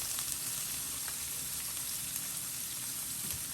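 Parmesan-crusted shrimp frying in a pan gives off a steady, even crackling sizzle with small pops, close and fairly soft, with no voices.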